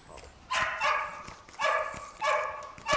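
A 2.5-year-old dog barks during mock-attack bite training, giving several loud, close barks in separate bursts about a second apart.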